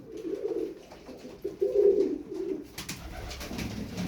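Ornamental pigeons coo in low, rolling bursts, several calls in a row close by, with some rustling and shuffling noise toward the end.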